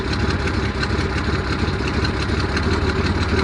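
A 1974 Datsun 260Z engine idles while warming up, a loud, steady, close rumble with an even pulsing rhythm and no voices.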